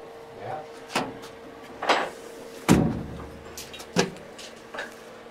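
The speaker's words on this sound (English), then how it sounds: "Can I shut this door?" A car door is handled and shut, giving a series of separate thuds and knocks spread about a second apart, with quiet room noise between them.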